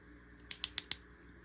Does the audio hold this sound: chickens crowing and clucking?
no